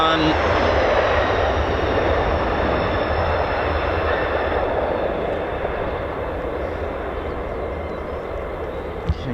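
F-15E Strike Eagle jet engines run steadily at RAF Lakenheath airbase, a loud continuous roar that holds level throughout with a slight fade near the end.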